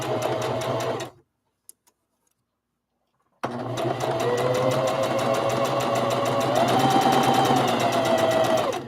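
A sewing machine stitches a rag doll seam around the thumb at a stitch length just under 2, a fast steady whirring hum that stops briefly for about two seconds and then resumes close and loud.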